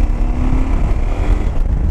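KTM 790 Adventure motorcycle with the 2019 LC8c engine pulling hard in fourth gear, a loud, throaty, close-up roar with buffeting wind noise, rising steadily over two seconds with no voices.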